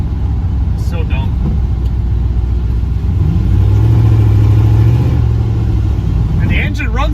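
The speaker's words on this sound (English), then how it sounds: "And the engine runs so well." A tuned car's engine drones steadily and loudly while driving, the pitch climbing and holding as it revs, with faint shifting tones near the end.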